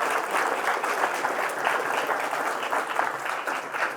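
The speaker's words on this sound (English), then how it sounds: "Round of applause, please." Audience applause welcoming speakers at a fireside chat event, a steady crowd of hands clapping continuously at moderate volume, with no speech over it.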